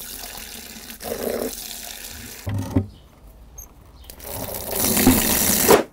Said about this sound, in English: we're going to fill these buckets up with warm water